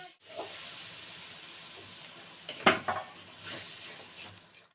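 Ground fennel paste, coriander, turmeric and chilli powder hit a pan with a splash of water for a fish curry, giving a soft sizzle with a few clinks and stirring scrapes in a quiet kitchen.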